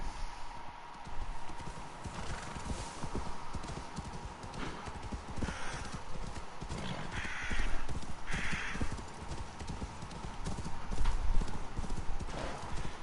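Horse hooves clip-clop steadily in Assassin's Creed Valhalla, a continuous rhythmic trot over a busy game soundscape with occasional louder swells and a faint whinny.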